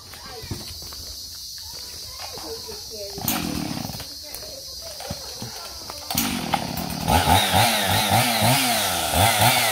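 A chainsaw cuts through a wooden stick outdoors at a rural home, its engine rising to a loud, steady buzz in the second half after quieter revving, with voices talking over it.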